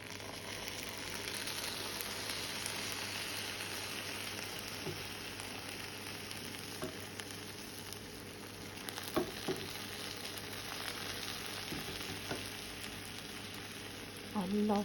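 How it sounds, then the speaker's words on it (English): Hot sugar syrup poured over a baking tray of walnut and pistachio baklava, giving a steady, dense close sizzle and crackle that lasts throughout, with occasional small clinks. "So now I'm going to put on the sugar syrup."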